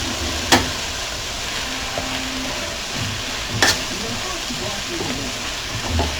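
Cauliflower rice frying in a pan, a steady low sizzle with a couple of sharp clinks from stirring, heard close and alone.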